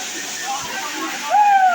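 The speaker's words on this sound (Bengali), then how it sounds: "এই সেই ঝর্ণা যার কারণে এতক্ষণ হেঁটে আসলাম" Khoyachora waterfall at Sitakunda pours down several rocky steps, a steady broadband rush heard at a moderate distance with no pauses, while a voice speaks over it.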